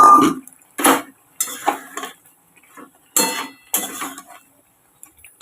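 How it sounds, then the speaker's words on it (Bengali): Fried plantain pieces tipped into a pot of boiling curry, a series of sharp, close clinks and clatters of utensil against pan arriving in uneven bursts with quiet gaps between. "এবার কলার ভাজাগুলো দিয়ে দিলাম"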